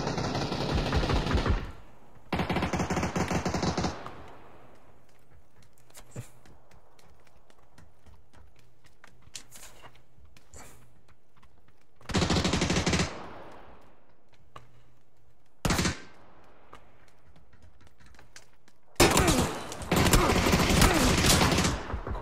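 Video game gunfire plays in bursts of rapid automatic shots and single cracks, some loud and close, others fainter, separated by quieter stretches of game ambience.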